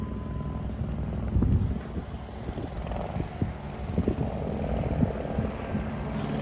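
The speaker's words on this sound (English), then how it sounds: "And that is a police helicopter." A police helicopter passes overhead, its steady low rotor thrum rising and falling at a distance, with some nearby knocks and rustles mixed in and no talking.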